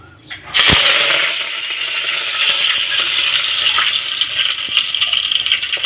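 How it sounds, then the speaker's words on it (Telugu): Curry leaves and fenugreek powder fry in a pan for a home-style okra and tomato curry, giving a loud, steady sizzle that starts abruptly after a faint clatter and continues throughout with light stirring sounds. "కొంచెం కరివేపాకు అది వేగాలి కొంచెం మెంతిపొడి"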